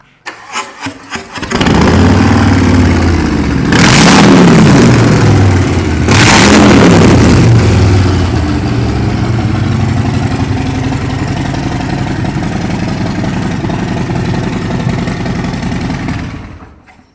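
A 2019 Harley-Davidson Street Bob (FXBB) motorcycle engine cranks, fires up, blips the throttle twice, then settles into a loud, steady, rumbling idle up close before cutting off.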